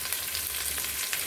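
Onions frying in a pan for Hyderabadi bagara rice make a steady, close, dense sizzle throughout, with no voices.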